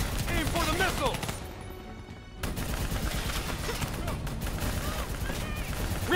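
Gunfire aimed at a VTOL aircraft during a Call of Duty: Black Ops III battle with an APC nearby, rapid bursts of shots at moderate loudness that drop away briefly and then resume steadily, with voices speaking over the combat.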